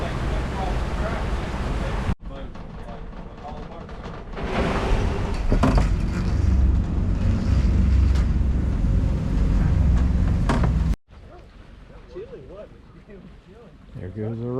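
A boat pulls away from Fontana Marina, its engine a low rumble mixed with water and wind noise on the microphone, swelling louder through the middle before it fades, with voices heard briefly.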